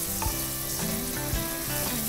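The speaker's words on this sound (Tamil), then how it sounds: "நல்லா பொரிஞ்சதுக்கு அப்புறமா வெங்காயமும் பச்சை மிளகாவும் சேர்த்துருக்காங்க" Onions and green chillies frying in ghee and oil for mutton biryani, a steady close sizzle with faint scraping stirs, loud and continuous with no talking.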